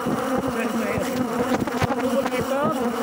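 Honey bees buzz steadily in a dense, continuous drone at an opened hive that is being split, with frames of stored honey being lifted out close by.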